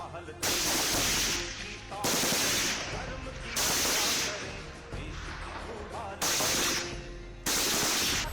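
Bhairav commandos at firing practice, long bursts of automatic gunfire alternating with brief pauses, loud and sustained across the stretch, with a voice faintly heard beneath.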